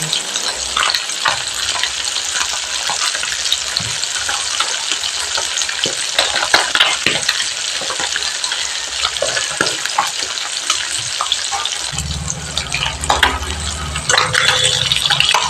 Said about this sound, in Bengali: এবার আমি মাছের ওই দিকে পিঠটা উঠে দিয়েছি ভালো করে ভাজার জন্য